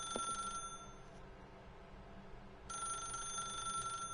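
An office telephone rings in the video game The Stanley Parable, a steady electronic ring that sounds at the start, falls quiet for about two seconds, then rings again, alone with no talking.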